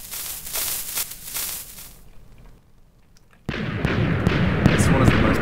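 TNT bomb detonation in Minecraft, a heavy Vendetta bomb: a loud, crackling, rumbling blast that fades into a brief near-quiet lull before a second sudden, powerful burst erupts and roars on at full strength.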